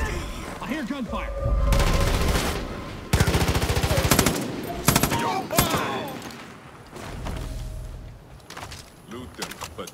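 Bursts of automatic and single-shot gunfire from the video game Far Cry New Dawn, loud and close, arriving in dense rapid volleys with short pauses between them, alongside other game sounds.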